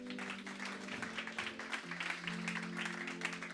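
Church congregation applauding after a prayer, a dense patter of claps that continues over sustained music tones and voices throughout.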